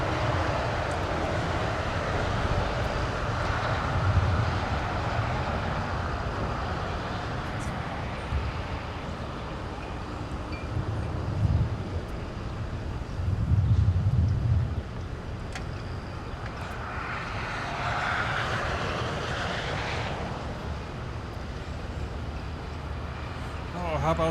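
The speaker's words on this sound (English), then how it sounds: "Japan Airlines 15 Heavy departing with an A350 1000 to Tokyo" An Airbus A350-1000 jet of Japan Airlines departs LAX in Los Angeles, its steady broad roar continuing throughout and swelling near the end, with a narrator talking over it.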